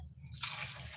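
Water is poured into a cooking pot while omena fish are prepared with milk, a brief splashing pour that starts abruptly and runs steadily to the end, fairly close and moderately loud.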